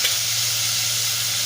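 Asafoetida hits hot oil in a pan for masale bhat, a steady bright sizzle that holds evenly and close throughout with no voices.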